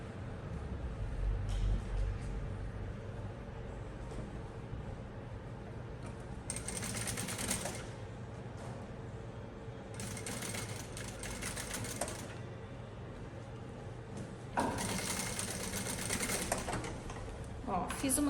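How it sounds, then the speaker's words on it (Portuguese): A sewing machine runs a short safety seam on a girl's backpack, whirring in three separate bursts of stitching with quiet pauses and a low background hum between them. "Vou fazer aqui uma costurinha de segurança"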